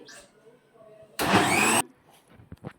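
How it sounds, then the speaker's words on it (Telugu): A mixer grinder whirs in one loud, harsh burst of about half a second, blending a sago milkshake with milk and brown sugar, with quiet kitchen noise before and after. "మళ్ళీ ప్రాపర్గా మిక్సీకి వేసుకోవాలి."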